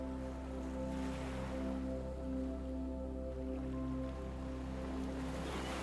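Ocean waves wash steadily onto a beach in a continuous, even surf roar with gentle swells and a low steady drone underneath, and no voices.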